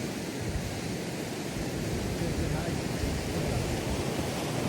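Water rushes steadily at a village dam, a dense, even roar that holds at constant strength throughout.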